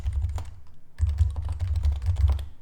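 Someone types on a computer keyboard, entering an email address in a short, close burst of quick clicky keystrokes with a brief pause near the start.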